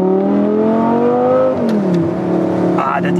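An Audi R8 Spyder V10 engine with a manual gearbox revs high, then drops as a gear changes, and climbs again, loud and close.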